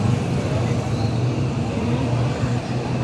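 Vehicles idling and moving at Malaybalay City public terminal in the afternoon, a steady rumble of engines and traffic noise, fairly loud and continuous, with a busy crowd around.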